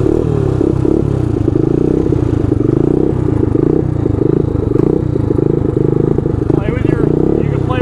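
A quad ATV engine with its choke in play runs steadily at a loud, close range, making a rough, throbbing idle that revs a little toward the end.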